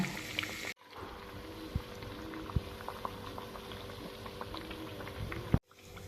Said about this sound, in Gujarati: મીડિયમ ટુ ફાસ્ટ ગેસ ઉપર આપણે કટલેસને તળી લેવાની છે।